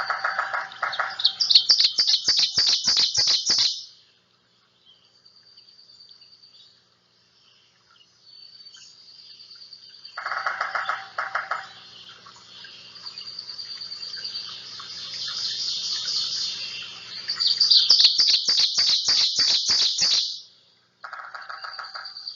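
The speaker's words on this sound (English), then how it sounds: "here's the song of the ovenbird" Ovenbird song in a woodland setting, rising bursts of loud, rapid repeated chirping phrases, two strong songs with quieter singing and other birds between them.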